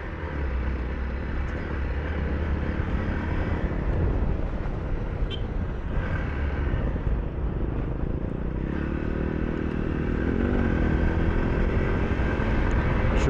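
A BMW motorcycle at an enduro off-road park, a steady droning engine that holds throughout, with a second engine rising in pitch near the end as a bike passes, no talk.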